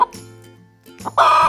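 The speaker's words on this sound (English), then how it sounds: "Chicken." A chicken clucks in a few short, close bursts, ending in a louder, harsher squawk, with no voices.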